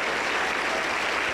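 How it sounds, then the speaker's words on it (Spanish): Sustained applause from a church congregation during an evangelical service of prayer and deliverance, a steady dense wash of clapping that fills the whole moment with no pause. "Aplauso para el Señor Jesús."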